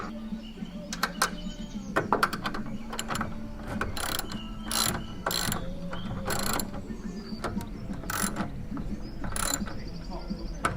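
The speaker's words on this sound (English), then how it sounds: "And then I've got a spanner and a socket." Spanner and socket ratcheting while a large solar panel is fitted to a Citroen Relay camper van roof, a run of quick, sharp mechanical clicks in bursts, close and fairly loud over outdoor background with faint birds.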